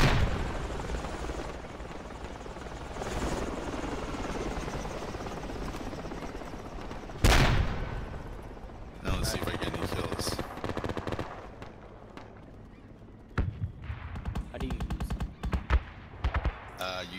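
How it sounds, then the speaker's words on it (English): Mortar rounds fire in the Project Reality combat game during city warfare. Heavy booming launches and sharp blasts cut over a rumbling helicopter and bursts of gunfire, with a voice speaking now and then. "And rounds going downrange to the marker. Mortars on Lima 3."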